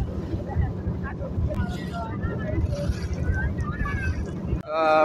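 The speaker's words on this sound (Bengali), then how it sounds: "দেখেন প্রচুর পরিমাণে বাতাস আর সেই ঢেউ" Strong wind buffeting the microphone with low rumbling from a boat out on waves during a family boat trip, steady and loud throughout, with faint voices underneath.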